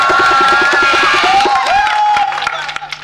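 A crowd at a dugola folk singing event cheers and claps for a nine-year-old boy singer. A loud mass of crowd noise carries a rhythmic clapping pulse and a tonal melodic line, then fades near the end.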